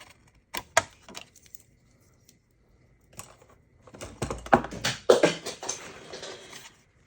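Handmade craft pieces slip past their container and clatter onto the floor in a scattered burst of knocks and rattles, preceded by a few isolated taps in an otherwise quiet room.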